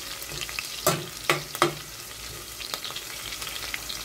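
Chicken breast sautéing in a pan, a continuous sizzle broken by three sharp clacks of a utensil stirring and scraping, close and alone without speech.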